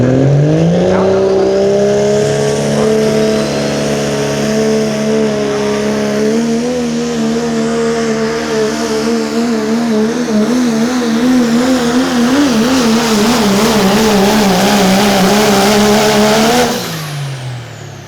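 A Dodge limited pro diesel pulling truck at the 2025 Horsepower In The Haute truck pull roars loud and close for about seventeen seconds, its engine note rising and wavering under heavy load before cutting off abruptly.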